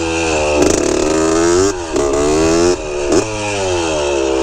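A 1981 Honda CR80 dirt bike two-stroke engine revving hard, rising in sharp bursts and dropping back between throttle blips, loud and close with no talk.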